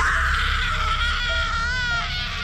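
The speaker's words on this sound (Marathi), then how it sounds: "ती रडू लागली, ओरडू लागली" A woman cries and screams as a sound effect in a Marathi ghost story, with a loud, wailing, rising-and-falling sob that runs continuously.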